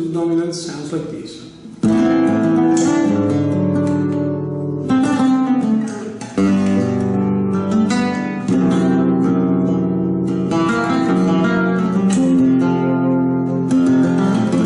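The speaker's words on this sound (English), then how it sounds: "And the other one with substitute dominance sounds like this." A flamenco guitar plays an Andalusian cadence with substitute dominant chords. A series of close, strummed chords rings out in turn, with sharp rasgueado-like attacks and full sustain between the changes.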